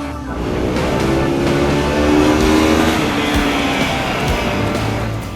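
A Bajaj Pulsar AS 200 motorcycle engine revs hard and climbs in pitch, a loud, gritty roar that swells and then eases slightly.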